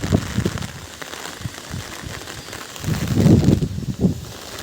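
Morning rain and gusting wind in Vallabhipur, heard as a steady patter with rustling bursts and low buffeting on the microphone, swelling louder toward the end.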